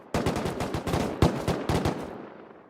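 Rapid automatic gunfire in the game Rust during a clan battle, a close, loud string of about a dozen evenly spaced shots that stops abruptly and leaves a short fading tail.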